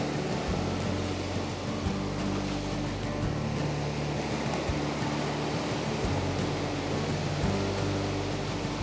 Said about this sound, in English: Wait for a wave to come up.